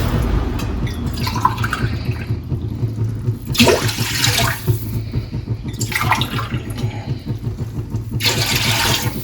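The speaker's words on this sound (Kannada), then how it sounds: "4 ಗ್ಲಾಸ್ ನೀರು ಹಾಕೊಳ್ಳೋಣ." Four glasses of water go into a cooking pot, arriving as several gushing pours with short gaps between them, over a low steady rumble in a home kitchen.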